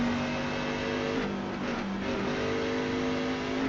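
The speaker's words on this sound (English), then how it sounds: "We're rolling back out onto the Michigan International Raceway for qualifying in the trucks" Race truck engine droning steadily at Michigan International Raceway during qualifying, a loud continuous close-up hum with a brief dip in pitch, heard from inside or on board.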